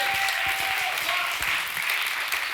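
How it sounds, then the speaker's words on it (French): Audience at an evening event on Normandy energy-transition initiatives, clapping loudly and steadily for a guest, with a few individual claps standing out near the listener. "qu'on peut quand même applaudir beaucoup plus fort que ça"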